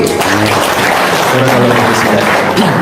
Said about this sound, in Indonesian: Tepuk tangan buat Pak Kiai